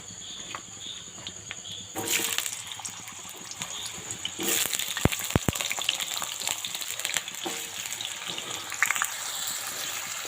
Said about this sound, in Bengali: তো সব কটা আলু আমি দিয়ে দিয়েছি। এটাকে আমি হালকা করে ভেজে নেবো